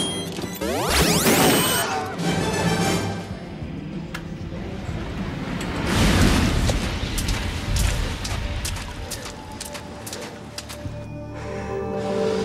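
A grenade blast in an action movie scene, loud booms and crashing debris rolling through a dense, busy soundtrack over several seconds.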